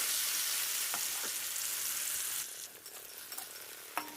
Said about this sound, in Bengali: টমেটোটাকে আমি একটু সময় ভেজে নেব।